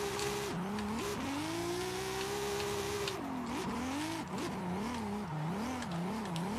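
A 1600-horsepower car drifting in the racing game Forza Horizon 5, with a loud, continuous engine whine that swoops up and down as it revs, plus tire squeal and skidding throughout, without talk.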